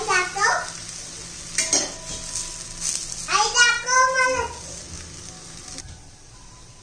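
A matar (green pea) dosa fries in oil on a pan with a soft sizzle, interrupted by a couple of metallic scrapes and clinks as it is lifted and flipped, while someone talks over the cooking.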